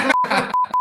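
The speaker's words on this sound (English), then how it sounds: "the beeps are necessary, Ryan" Several short, clean electronic beeps at a single steady pitch, heard between bursts of noise on a podcast recording. The beeps come in a quick irregular sequence, loud and close.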